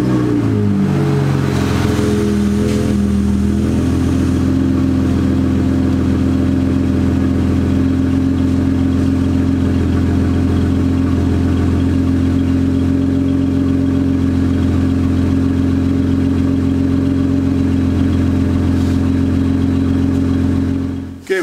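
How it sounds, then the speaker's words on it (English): A Jeep engine cranks and catches, then settles into a loud, steady close idle that runs unchanged for about twenty seconds before cutting off abruptly at the end. "start it up, let the engine run for a second"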